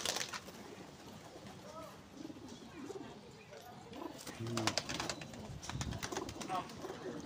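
Pigeons in a Lucknow fancier's loft coo softly in the background, with scattered calls and wing or foot shuffles, while someone talks over them throughout.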